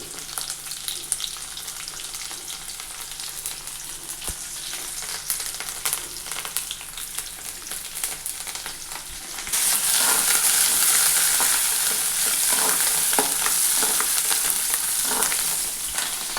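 Tomatoes frying in a pan for a chicken curry, a continuous close sizzle that turns markedly louder and brighter about two thirds of the way through, with light stirring.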